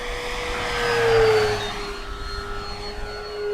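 An FMS P-47 1700mm RC model airplane flies a steep turn, its electric motor giving a steady whine that rises and falls in pitch as it passes nearby.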